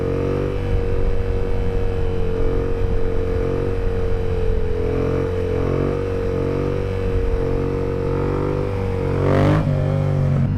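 Yamaha FZ-07 motorcycle engine droning loudly at steady revs during a wheelie on a highway, with a brief rise in pitch near the end and no voices.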